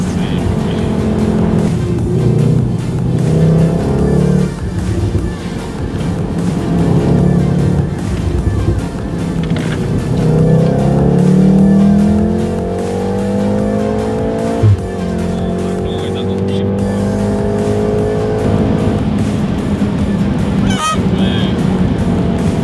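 A car fitted with a new exhaust system revs and drives hard, its loud rasping engine note rising and falling repeatedly over about twenty seconds, with rapid climbs in pitch and a few sharp transient pops near the end.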